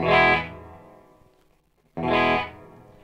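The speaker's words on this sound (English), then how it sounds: "Very, very dark, deep reverb there" Guitar through a Walrus Audio Descent reverb pedal with its sub-octave added, two strummed chords a couple of seconds apart, each a loud dark attack trailing into a deep, low reverb tail.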